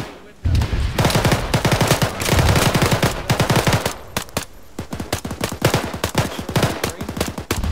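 Bursts of gunfire during a military-style mock operation, rapid automatic shots in loud, close strings with short pauses between volleys, continuing over several seconds, with a voice briefly audible among the shots.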